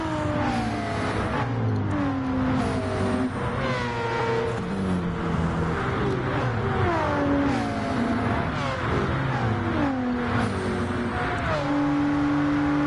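Several race cars in a PS4 racing game sweep across the start-finish line, engines droning at high revs with rising and falling pitch as each passes, a steady continuous roar with no talking.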